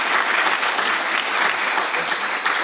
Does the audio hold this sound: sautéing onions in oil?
no